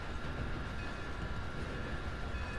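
A train in the video game Red Dead Redemption 2 rumbles steadily and loudly, a dense continuous roll of wheels and carriage noise with no break and no voices.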